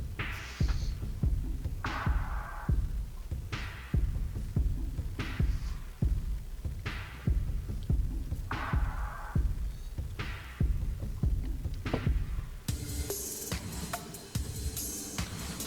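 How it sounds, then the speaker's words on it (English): Bass-heavy royalty-free vaporwave plays on a video game's main menu, with a deep thumping pulse repeating steadily and brighter synth layers swelling near the end; no voices. "you should be able to hear some bass coming in here"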